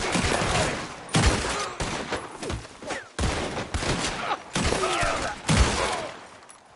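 Gunfire in a PS4 video game, with repeated loud bursts and rapid volleys in several clusters, some echoing sharply.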